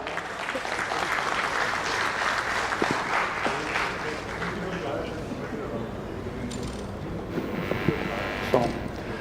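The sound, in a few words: applause for speaker coming on stage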